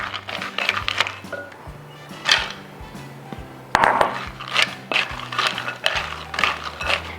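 Whole pecans stirred through a beaten egg mixture in a bowl, giving a close run of scraping, clinking strokes against the bowl at a steady, irregular rhythm, with no one talking.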